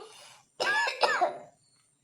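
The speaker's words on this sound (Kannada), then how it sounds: "ನನಗೂ ಯಾಕೋ ಕೆಮ್ಮು" A person coughs twice in quick succession, close and fairly loud, after a brief breathy sound and a short pause.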